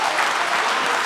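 A steady wash of applause from a podcast audience, loud and continuous throughout the short moment.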